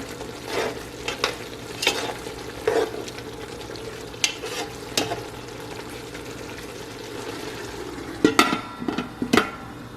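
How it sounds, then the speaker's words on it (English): Fresh oregano, thyme and salt being stirred through a mixture in a pan, with a steady low sizzle under repeated scraping strokes that come in bursts, busiest near the end. "And then just give this a mix."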